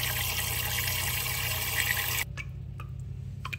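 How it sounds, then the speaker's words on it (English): Clean tap water running into a cooking pot on a kitchen counter, a steady rushing fill that cuts off abruptly partway through, followed by a few faint drips and clinks, close and loud. "then I refill the pan or pot, I'm sorry, back up with clean water"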